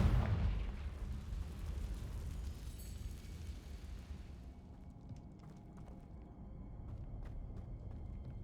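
Confringo fire spell explosion in the Hogwarts Legacy video game, a loud booming blast at the start that decays into a long rumbling tail, with faint scattered game sounds after it.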